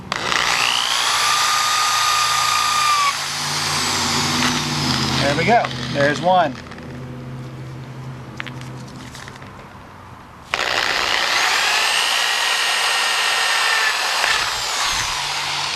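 A power drill with a 5/32 bit drills the tops off rivets in a Saturn sunroof. It whines loudly in two long bursts split by a quieter gap with clicking handling noise, and a voice speaks briefly.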